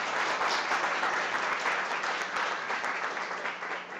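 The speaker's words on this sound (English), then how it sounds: "Give yourselves a good round of applause for being here." A round of applause from the audience at a chef cooking-competition show, a bright, steady burst of clapping close by that slowly tapers toward the end.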